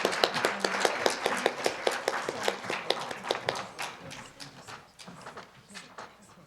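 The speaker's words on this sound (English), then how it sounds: "And we'll give them a big round of applause as well." An audience at a 2013 journalists' conference in Seoul applauds, sharp rhythmic claps that start strong and near, then thin out and fade over several seconds.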